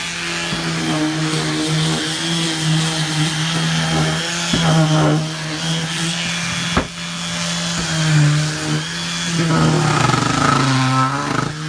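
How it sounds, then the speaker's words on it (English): A power sander on wood gives a continuous droning whine throughout with shifting pitch and pressure, while people talk faintly underneath. "We're gonna sand this now."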